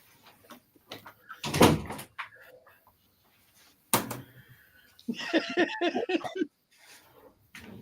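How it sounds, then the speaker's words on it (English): Dogs knock a door open, producing a sharp bang and a later knock with rattling and scraping, followed by a burst of shuffling clatter, all fairly quiet in an indoor room. "Dogs keep knocking the damn door open."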